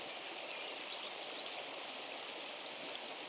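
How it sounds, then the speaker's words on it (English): A waterfall in the video game Pentiment gives off a steady, even hiss of rushing water, constant and unbroken throughout without any talk. "Now let's take a look at the waterfall."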